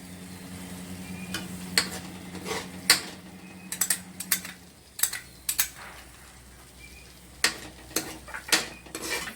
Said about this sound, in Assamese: এইখিনি ভালকৈ মিক্স কৰি দিব লাগিব, মিলাব লাগিব, ধুনীয়াকৈ লৰাই থাকিব লাগিব